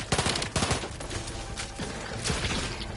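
Rapid repeated shots from a powerful gun in The Outer Worlds 2, a loud dense volley of blasts in uneven bursts across the clip, close and continuous without speech.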